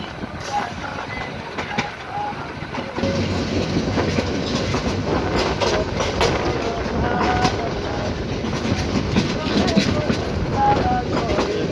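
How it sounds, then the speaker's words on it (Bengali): Riding aboard the Chattala Express train, a loud continuous rumble with rhythmic wheel clatter that grows heavier after a few seconds, and faint talk in the background. "চট্টলা এক্সপ্রেস করে যাচ্ছি।"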